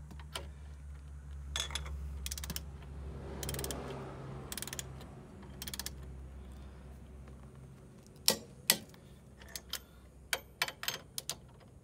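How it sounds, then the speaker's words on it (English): A torque wrench tightens wheel lug nuts in a star pattern during a wheel spacer install, with a low mechanical hum followed by a run of sharp, close ratcheting clicks near the end. "get your torque wrench on there, and just torque it"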